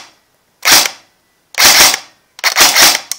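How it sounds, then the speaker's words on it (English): Tokyo Marui SIG 552 airsoft assault rifle firing three loud, close bursts, each a sharp rattling volley under a second long, separated by brief silent gaps. "Very nice assault rifle, very smooth firing."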